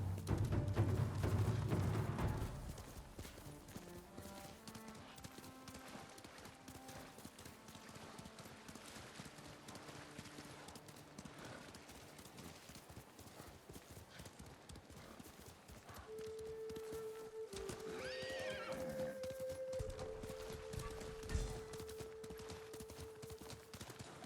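A horse in Ghost of Tsushima gallops with steady rhythmic hoofbeats, and a whinny rises partway through, amid tonal game effects and scattered sharp clatter, all at moderate level.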